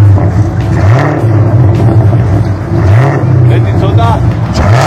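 A manual-transmission sports car engine, one of a BMW M4, Toyota Supra or Camaro ZL1 on a road trip, revs up twice in loud rising sweeps and then holds a rumbling idle, while people talk over it inside the car.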